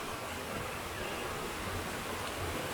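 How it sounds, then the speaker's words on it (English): A steady rush of falling water at a waterfall in Clarks Gully, heard as faint, continuous broadband noise with no other sounds. "There's the waterfall."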